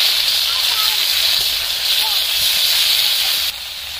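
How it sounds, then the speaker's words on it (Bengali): Onion paste hitting hot mustard oil tempered with whole cumin, giving a steady loud hiss and sizzle that holds evenly for about four seconds, then drops slightly near the end. "পেঁয়াজের বাটা দিয়ে দিচ্ছি।"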